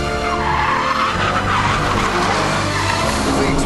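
An Aston Martin V12 Vantage corners hard, its tires squealing loudly and continuously over engine roar, up close throughout.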